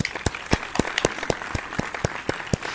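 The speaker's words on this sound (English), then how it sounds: "Round of applause." A small group claps in a round of applause, a sparse, irregular patter of distinct hand claps that carries on steadily, fairly close and moderately loud, with no talking over it.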